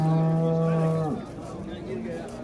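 A cow at a livestock market gives one long, loud low moo that falls away after about a second, followed by general market background noise.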